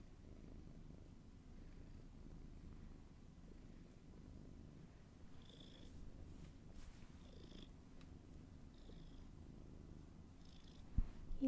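Steady low cat purr runs continuously, soft and close, with faint high chirpy sounds from a game in the background.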